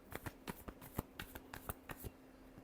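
Tarot cards being shuffled, a crisp series of about a dozen quick riffling snaps in an uneven rhythm, close and clear with a faint steady hum beneath and no talking.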